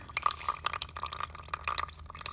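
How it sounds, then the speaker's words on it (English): Water trickles and drips from the oil filter housing of a Yanmar three-cylinder diesel engine during a teardown, a quick irregular patter of small splashes, close and fairly quiet. "what's coming out of the oil filter housing is just water"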